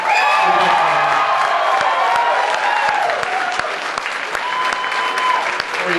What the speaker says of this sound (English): But all this applause is gonna be for you.